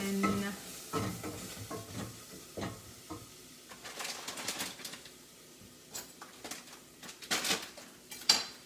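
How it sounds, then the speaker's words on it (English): Riced cauliflower being stirred and mixed in a pan for cauliflower pulihora, with repeated clinks and scrapes of a utensil against the pan over a faint sizzle, the knocks coming in irregular bursts, close and fairly quiet. "I'll be adding the riced cauliflower that's already, and then nicely mix it"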